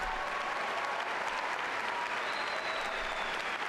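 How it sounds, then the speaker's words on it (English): Steady, dense applause from a large audience at a 2015 university commencement ceremony, filling the whole moment with no break and no talking over it. "I think we all owe a round of applause"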